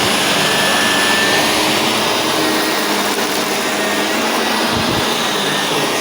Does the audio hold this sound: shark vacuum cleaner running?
yes